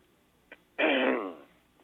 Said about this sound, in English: Could you clear your throat?